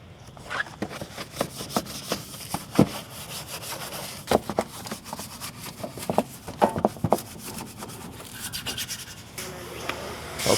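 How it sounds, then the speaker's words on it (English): A Jeep Rubicon with heavy scratches is scrubbed by hand during a wash, giving close irregular brushing and rubbing strokes with sharp scraping bursts. "Don't be afraid to scrub hard either."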